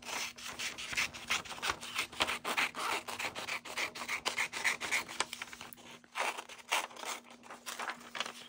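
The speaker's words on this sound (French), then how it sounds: "Je vais découper autour de sa robe." Scissors snip around a paper picture of a dress, a close run of quick, irregular crisp cuts and rustles with short pauses between them.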